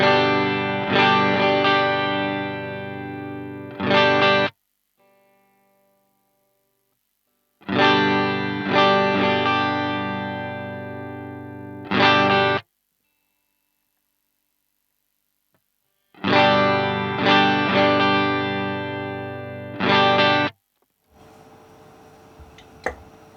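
Clean electric guitar, a Stratocaster on the middle pickup through an EQ pedal, plays three short strummed chord phrases, each followed by a silent gap, ending with a faint noisy rustle.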